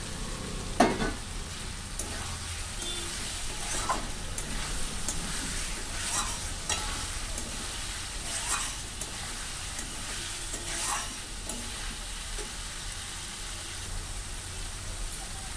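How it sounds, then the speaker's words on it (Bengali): Octopus curry with fried potatoes is stir-fried in plenty of oil, a steady close sizzle broken by repeated scraping strokes of a spatula against the pan. "দেখো আমার পুরো কিন্তু রান্নাটা ভালো করে কষে কষে আমি তেলটাকে পুরো বার করে দিয়েছি"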